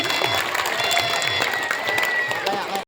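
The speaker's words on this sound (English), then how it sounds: "Give a big round of applause" Audience at a school Children's Day celebration applauding after a song, with steady, dense clapping and some cheering from a nearby crowd that ends abruptly, with voices mixed in.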